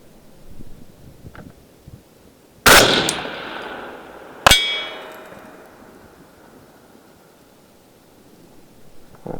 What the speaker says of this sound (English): I just now fired off 2 rounds.